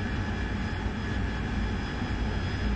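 Steady, dense engine roar of an AV-8B Harrier jet cruising in level flight at night in the DCS flight simulator, a constant broadband drone with no gaps or voices.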